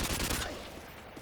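AK rifle fire in Call of Duty, with a dense rapid burst of shots at the start that trails off into reverberant echo.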